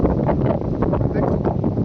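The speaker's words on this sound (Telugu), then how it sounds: "చూడండి గాలి విపరీతంగా ఉండాలి మామ, తట్టుకోలేము అంత గాలి వస్తుంది పైన" Strong wind on an exposed hilltop blasts steadily against the microphone, a loud, continuous rumbling roar with gusty swells throughout.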